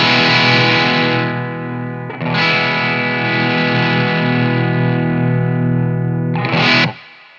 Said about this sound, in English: if I want to turn the level up, I'm going to get more because I'm pushing the input of the Vemure amp even harder